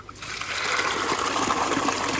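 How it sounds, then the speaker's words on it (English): Water gushing out through an opened drain of a koi pond, a steady, fairly loud rushing and splashing flow that starts abruptly and continues unbroken, with no voices over it. "I drain a load of water out the pond"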